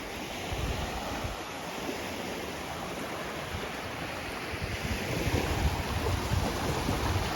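Surf washing steadily onto Sairee Beach in Chumphon, southern Thailand, a continuous broadband roar of breaking waves with some wind buffeting the microphone, growing slightly louder toward the end, with no voices.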